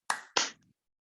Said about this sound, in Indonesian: Tepuk tangan 1 kali